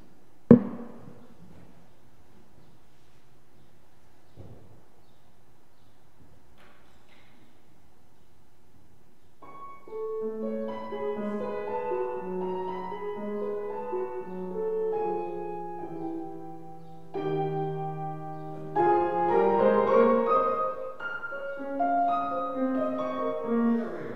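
A Beethoven passage on piano, played at a recital, starts after a quiet pause and a few soft knocks, then moves through melodic phrases before an abrupt key change shifts the music, growing fuller and louder toward the end.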